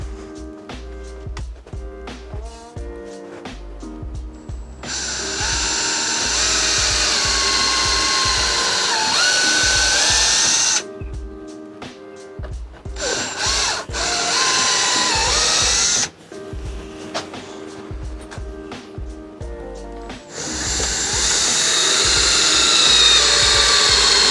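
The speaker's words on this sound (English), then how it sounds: "we've got to drill it with this drill bit first, and then use a bigger drill bit" A power drill whines loudly in several long bursts, boring into wood, separated by short pauses with clicking and background music.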